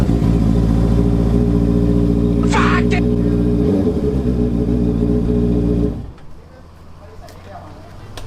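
A Honda CBR650R big bike's engine runs loud and close with a steady rev for about six seconds, then suddenly drops to a low idle. A brief higher whine rises partway through, and people speak quietly nearby.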